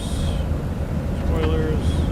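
Airliner thrust reversers roaring on landing in the MSFS 2024 flight simulator, a broad steady rush of engine and wind noise, loud and continuous, with a voice speaking over it.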